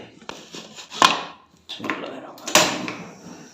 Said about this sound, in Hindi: प्रेशर कुकर को बंद कर लेंगे।